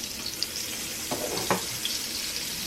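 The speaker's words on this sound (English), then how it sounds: "the butter an opportunity to melt" Butter melting in a pot before searing a pot roast, a dense even sizzle with a couple of soft knocks from a utensil, close by and without talk.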